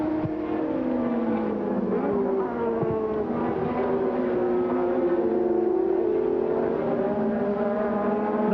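Formula One race cars at the Brazilian Grand Prix, Jacarepaguá, scream past with high, shifting engine notes that rise and fall as they pass by.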